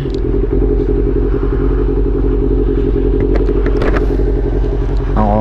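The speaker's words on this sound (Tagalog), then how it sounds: "Matibay pa rin ang motor natin." A Honda CB400 motorcycle on a long ride, its engine droning steadily and loud up close with a constant low rumble and some clattering, a brief voice near the end.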